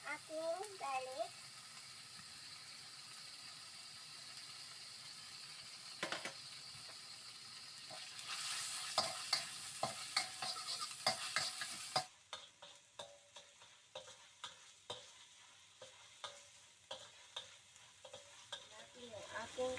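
Eggplant and minced pork stir-fried with garlic and chili garlic sauce sizzle quietly in a pan, with rhythmic scraping stirs growing more distinct toward the end, all fairly faint and close.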